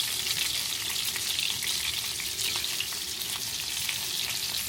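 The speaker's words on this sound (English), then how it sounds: "So now the meat is done browning. We're gonna take all this off." Browned meat frying in a pot as it is taken out, a steady close sizzle with light stirring and scraping, fairly soft and without talk.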